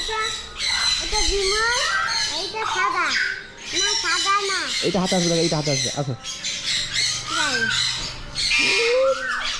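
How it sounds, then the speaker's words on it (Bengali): Loud, harsh red-and-blue macaw squawks repeat over and over, close by, with people talking throughout and other birds calling in the background. "ওই রেড মাকাও মনে হচ্ছে, রেড অ্যান্ড ব্লু মাকাও"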